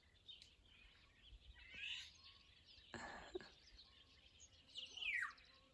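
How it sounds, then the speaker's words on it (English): In a forest, a few bright bird calls ring out at moderate distance against a very quiet background, separated by pauses, with a soft low rustle between them. "that's a really beautiful bird call"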